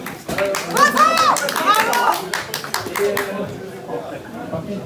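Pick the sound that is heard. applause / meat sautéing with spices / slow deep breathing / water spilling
applause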